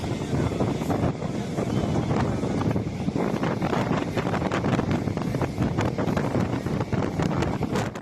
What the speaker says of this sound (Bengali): দেখো এত হাওয়া দিচ্ছে